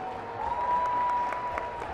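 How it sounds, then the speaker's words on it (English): Audience applause for a fighter at the Fight For It XV boxing event, a steady crowd of clapping that swells and holds at moderate loudness, with a thin whistle-like tone running through it. "Nice round of applause for Mr. Hamilton there."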